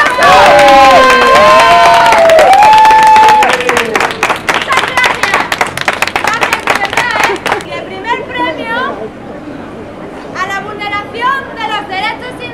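A festive awards ceremony crowd cheering and clapping, loud shouts and whistles at first, then rapid sustained applause with voices calling out over it, continuing as chatter and scattered cheers.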